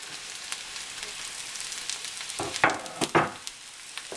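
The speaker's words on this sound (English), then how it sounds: "I'm going to go ahead and add in my mushrooms. And we'll let them finish sauteing together." Mushrooms and caramelizing onions sauté in a pan, a soft continuous sizzle broken by a few louder scraping stirs near the end.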